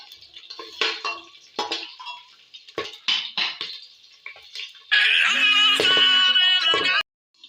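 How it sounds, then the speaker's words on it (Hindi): Ginger and garlic being stirred in a cooking pot: a metal spoon gives sharp, scattered clinks and scrapes against the pot, then a loud, steady hiss rises for about two seconds before cutting off abruptly. "अब इसमें लहसुन, इसे थोड़ा मिक्स करूँगा"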